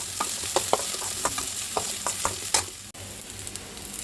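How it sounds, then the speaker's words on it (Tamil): Onions and green chillies sautéing in a pan for a Chettinad brinjal chutney, with a soft steady sizzle and repeated scraping stirs of a spoon against the pan, close and without talk. "நெக்ஸ்ட்டு பச்சை மிளகாயும் போட்டுட்டு இது மாதிரி நல்லா வதக்கிடலாம்."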